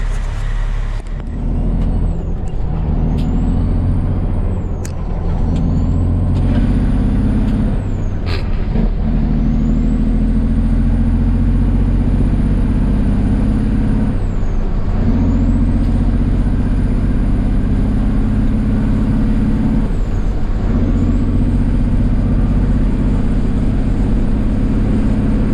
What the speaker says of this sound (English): So now I'm gonna do a demonstration and we're gonna show you downshifting.